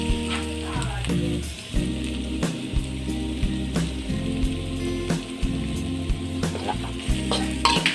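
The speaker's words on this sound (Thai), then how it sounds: "ผัดให้มันหอมๆก่อนครับผม เอาน้ำมันพื้นมาเติมนิดจักน้อยนึง" Ingredients for frog soup sizzle and crackle as they are stir-fried in oil, with frequent scraping and clinking of the utensil against the pan.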